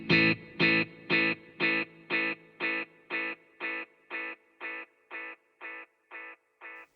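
Electric guitar played through a Positive Grid Spark amp's tape echo delay: one strummed chord repeating about fourteen times at a steady rhythm, each echo a little quieter and darker, with no talk.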